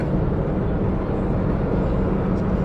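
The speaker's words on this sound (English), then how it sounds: "That's my car right there passing." Steady broadband traffic roar from a car passing on a highway, a constant loud rush of road and wind noise with no distinct approach or fade.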